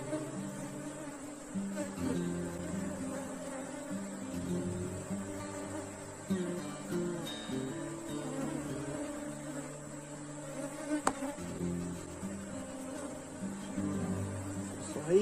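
Honeybees buzz steadily around an opened hive frame and a small queen cage, a dense, continuous close-up drone that holds for the whole stretch with slight swells and one brief sharp click near the end.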